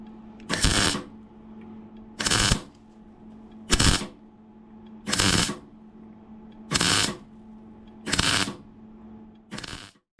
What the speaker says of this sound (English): we'll get them welded on